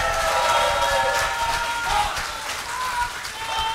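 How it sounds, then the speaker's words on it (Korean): Audience applause at a Bareunmirae Party leadership candidates' speech event, a steady dense wash of clapping that holds for the whole stretch with some voices mixed in. "박수 한번 쳐주시기 바랍니다"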